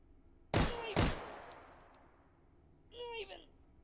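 Two sharp, close shots ring out about half a second apart from armor-piercing incendiary rounds in the VR shooter H3VR, followed by faint metallic pings, with a brief tonal clink near the end.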